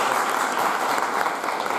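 Audience clapping at a national academic workshop on manuscript studies and paleography, a short, even burst of dense applause filling the hall with no talk over it.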